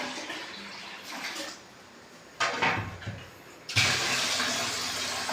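Water is poured into buttermilk in a home kitchen, heard as a short splashing burst followed by a second, louder pour that runs on steadily to the end.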